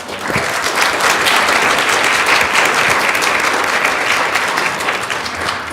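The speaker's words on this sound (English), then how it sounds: "Can we please clap it up?" Steady, loud applause from a crowd at a city council meeting, a dense wash of clapping sustained for several seconds without pause.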